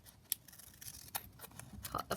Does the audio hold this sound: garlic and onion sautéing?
no